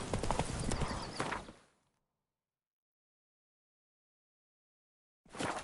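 A horse's hooves clip-clop at a gallop in the video game Witcher 3, a quick close rhythm that stops abruptly into silence and then starts again near the end.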